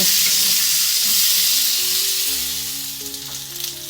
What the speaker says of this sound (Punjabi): ਹੁਣ ਆਪਾਂ ਥੋੜੀ ਦੇਰ ਇਸ ਤਰ੍ਹਾਂ ਖੁੱਲਾ ਹੀ ਭੁੰਨਾਂਗੇ ਸੁੱਕੇ ਮਸਾਲਿਆਂ ਦੇ ਨਾਲ ਤੇਲ ਦੇ ਵਿੱਚ